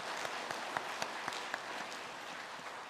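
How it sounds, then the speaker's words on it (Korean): A church congregation claps together in a short burst of applause, steady and moderately distant, with a few sharper individual claps standing out over the crowd's patter. "우리 그런 감사한 분들로서 같이 한번 박수 한번 보내주시면 고맙겠습니다."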